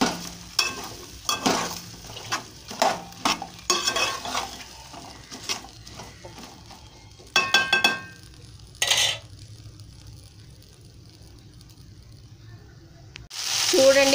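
Okra sizzling in a pan at home, with bursts of stirring and clinking of a utensil against the pan, then quieter frying between louder scrapes, with faint talk in places.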